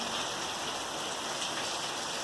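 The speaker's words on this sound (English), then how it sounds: "just out there, it's raining pretty heavy" Heavy rain pours steadily outdoors in Green Valley, Arizona, a dense, even hiss of drops that continues without a break, loud and close, with no voices.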